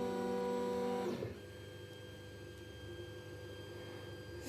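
A Tronxy X5SA Pro 3D printer drives its Z axis: a steady, faint motor whine with layered stepper tones cuts off after about a second, leaving a low hum and quiet whir.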